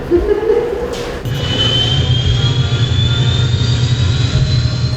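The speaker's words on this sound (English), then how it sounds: "It's the engine sound used for the drone taking off for the first time when the props start spinning" A drone-takeoff engine sound effect as the props start spinning: a motor whine rises in pitch as it spins up, with a steady low rumble underneath, close and fairly loud.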